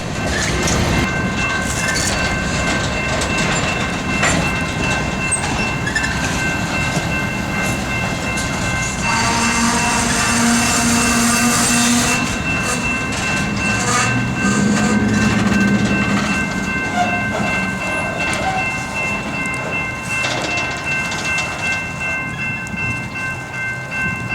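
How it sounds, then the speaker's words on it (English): A mile-plus-long freight train rolls steadily past, a continuous loud rumble of wheels and rail noise with brief squealing tones, no voices. "His mile-plus long train stopped every single crossing in the alley"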